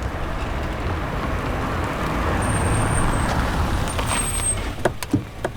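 A car pulls over on a roadway and brakes to a stop, a steady rumbling vehicle wash with a faint high squeal, ending in a few short knocks and clunks as it halts.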